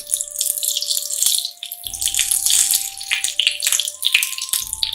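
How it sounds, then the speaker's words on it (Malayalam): Hot fried onion tempering poured into a pot of Kerala-style green gram (cherupayar) curry, giving a close, continuous watery splashing and sizzling hiss with scattered sharp crackles, and a low rumble entering partway through. "അതിനുശേഷം നമ്മൾ തയ്യാറാക്കി വെച്ചിരിക്കുന്ന ചെറുപയർ കറിയിലേക്ക് ഒഴിച്ചു കൊടുക്കാം."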